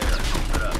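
Dense burst of gunfire in the multiplayer shooter Crash Map, a loud continuous volley of overlapping shots filling the whole moment with no clear pause.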